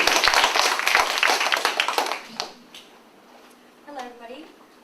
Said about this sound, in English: All right, so let's welcome her with a big round of applause.